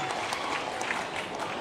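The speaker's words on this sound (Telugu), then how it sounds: "గట్టిగా చప్పట్లు కొట్టి అభినందించండి." Applause from an audience at a public welfare event in a village in Jammalamadugu constituency, a steady dense wash of clapping throughout with no pauses or talk over it.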